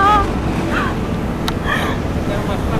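Ocean waves surge and wash against rocks below a sea cliff near a cave entrance, a steady loud roar with wind buffeting the microphone and no clear talk.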